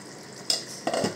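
A lid is lifted from a pot of desi chicken cooking with coriander, giving two short, close metallic clinks about half a second apart over a quiet background.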